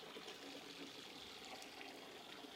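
Water drains steadily from a Giantex portable mini compact twin tub washing machine, a faint continuous hissing trickle that holds even throughout with no voices.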